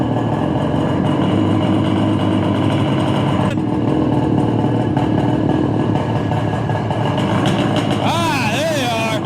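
A 1968 Yamaha YCS-1 twin motorcycle engine idles after an electric start, a loud steady low rumble running throughout, with a brief higher whine near the end.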